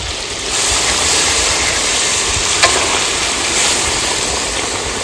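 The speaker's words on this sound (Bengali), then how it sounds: "এবার জলটা দিয়ে দিচ্ছি," Water poured into a pan of food cooking in hot mustard oil sets off a loud, steady hiss of sizzling that starts half a second in and continues without talk.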